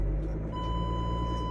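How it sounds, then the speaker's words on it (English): Warning beeps from a Winnebago Revel camper van put into reverse: a steady electronic tone starts partway through and holds over the idling engine rumble. "And you hear that beeping, and you see on the screen this flashing red."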